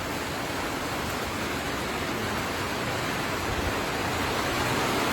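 Steady broadband hiss of rain pouring down during the monsoon season at an outdoor gathering, continuous and fairly loud with no voices over it.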